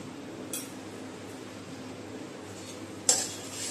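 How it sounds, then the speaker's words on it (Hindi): Green chillies with turmeric and coriander powder frying in a pan for a green coriander chicken: a quiet, steady sizzle, with a faint clink early on and a sharper scrape or clatter of the utensil near the end. "तो थोड़ा सा भून लेंगे"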